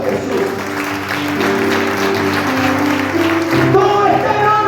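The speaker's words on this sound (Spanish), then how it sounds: "dale un fuerte aplauso a Jesús" Church congregation applauds Jesus, a continuous spread of clapping under a held tonal backdrop of music or voices, moderately loud throughout.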